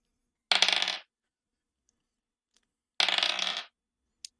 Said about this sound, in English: I'd love to hear those dice roll 2 times.